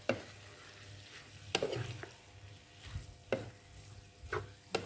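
Spiral pasta stir-fried in a pan for a spicy holy basil dish: a low background sizzle broken by several sharp, evenly spaced spatula scrapes and clatters, with no speech.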